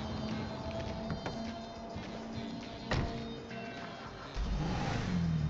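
Car engine revving in the video game GTA V, a steady mid-pitched engine drone with a sharp bump partway through and a heavier rev surge near the end, with no talking.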